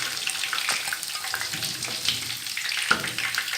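Fish pops deep-frying in hot oil, giving a steady close sizzle and crackle that runs without a break, with a few sharper pops scattered through it.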